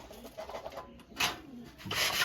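Pet pigeons coo softly nearby in a brief, faint stretch of low, rounded calls with some rustling and no speech.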